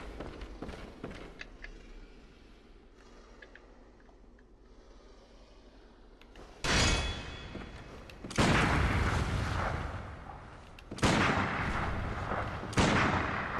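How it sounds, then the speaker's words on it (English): Pistol shots fired from a distance in Bloodborne: after a quiet, low stretch, several loud cracking bursts hit with long ringing tails, spaced a couple of seconds apart. "I'm just picking them off from a distance with a pistol"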